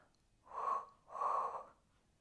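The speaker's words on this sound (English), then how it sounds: "you exhale forward for 2, inhale back for 2" Two soft, airy breaths during a Pilates workout, an exhale and then an inhale, each about half a second long, close to the microphone and quiet, with no talking.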